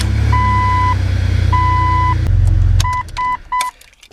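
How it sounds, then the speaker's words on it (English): A Jeep engine idles with a low steady rumble while the power steering fluid circulates. Several loud electronic beeps sound over it, and the rumble fades out toward the end. "Next thing you want to do is turn the vehicle on to circulate the power steering fluid."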